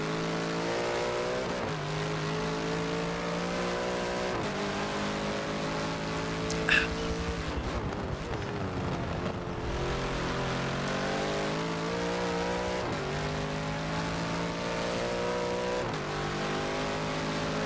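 Race car engines lapping the Bathurst circuit in a racing video game during a GT endurance championship round, a continuous layered drone of revving motors rising and falling through gear changes, with a brief voice faintly underneath.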